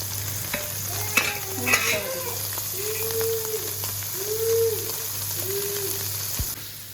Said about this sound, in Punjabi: ਪਨੀਰ ਜਿਹੜਾ ਦੇਸੀ ਘਿਓ ਦੇ ਵਿੱਚ ਫਰਾਈ ਕਰਨਾ